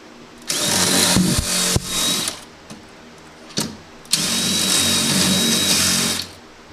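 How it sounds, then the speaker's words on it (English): A power drill whirs in two long bursts drilling new holes for a Honda Civic lift kit, separated by a short pause and a few knocks, loud and close. "grabbed a real drill and got the new holes made"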